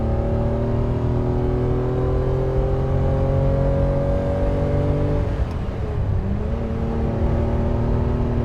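A 1967 Ferrari 330 GTC engine drones loud and steady as the car accelerates through the gears, its pitch climbing, dipping briefly at a shift near the end, then rising again.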